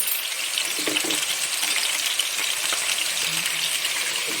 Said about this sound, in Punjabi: ਇਹ ਦੇਖੋ ਜੀ ਅੱਛੇ ਭੁੱਜਦੀਆਂ ਪੈਣ ਸਾਡੀਆਂ ਬਿਲਕੁਲ ਹਲਕੇ ਹਲਕੇ ਸਿਮ ਤੇ ਬਣਾਉਣੀਆਂ ਨੇ